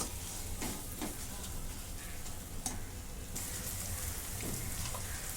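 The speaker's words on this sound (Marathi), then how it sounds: "आता ही मिरची टाकून घेते. परतून घेते." Green chillies sautéing in a pan alongside roasted tomato, a dense, rain-like crackling sizzle that fills the whole stretch with a few faint stirring scrapes, quiet and close, no talking.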